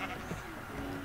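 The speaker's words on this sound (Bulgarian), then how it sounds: "О, коза." A Minecraft goat bleats once, a short nasal cry heard against steady game background noise.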